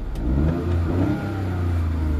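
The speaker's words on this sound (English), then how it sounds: "The car is now running," A 2002 Smart Fortwo 450 with a small 0.6-litre rear engine runs steadily nearby, its low, throbbing drone rising and falling slightly as it revs, loud and continuous with no talk.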